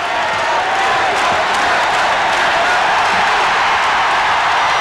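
Loud, steady crowd cheering fills a 1989 Illinois versus Iowa college basketball arena as Kendall Gill reports to the scorer's table, a dense roar that holds for the full stretch with no clear voices.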